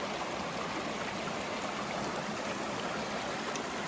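A creek runs along the Appalachian Trail, its water flowing in a soft, even, continuous rush that holds steady throughout with no voices.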